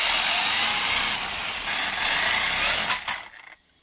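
The electric motor of an RC car on a smart battery whines steadily at high revs while the throttle is held, then winds down and cuts off near the end. The sound is loud and close, with no talking.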